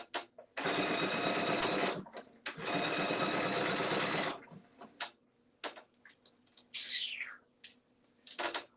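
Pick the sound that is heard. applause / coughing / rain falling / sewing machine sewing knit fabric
sewing machine sewing knit fabric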